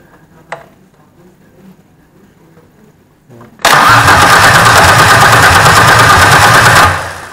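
After a quiet stretch with a faint click, a Ford Sierra Coupe Turbo's engine cranks and bursts into a loud, steady idle up close, then winds down.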